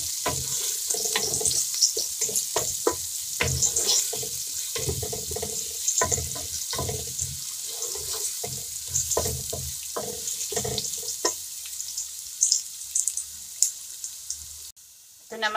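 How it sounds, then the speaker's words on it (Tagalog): Garlic sautés in hot oil in a pan for meatballs lomi, giving a steady close sizzle with irregular clinks and scraping from stirring throughout, with no voices. "Isay muna natin ang bawang na maluto siya."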